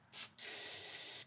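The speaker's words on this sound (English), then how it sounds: "we'll just give this a little spray with some carb choke cleaner" Carb choke cleaner is sprayed onto a generator carburetor: a short hissing puff, then a longer steady aerosol spray of about a second, close by and fairly faint.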